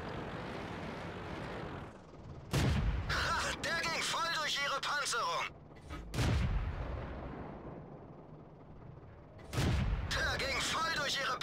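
Tank cannon shots in World of Tanks, three heavy booming blasts spaced a few seconds apart, each followed by a burst of bright metallic crackle as the round punches through armour, with voice lines over a steady background rumble.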